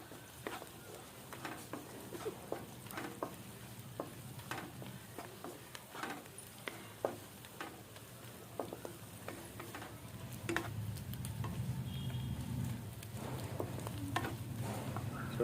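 Ginger garlic paste frying in a pan for fish biryani: a steady low sizzle that swells toward the end, with scattered light ticks and scrapes of stirring throughout, close and moderately loud, no voices.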